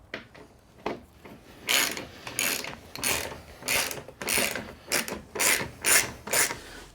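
Ratchet clicking in repeated bursts while Torx bolts are undone from the bulkhead of a Ford Transit Custom van, each rapid rasping run of the pawl separated by short pauses, close and fairly loud with no voices.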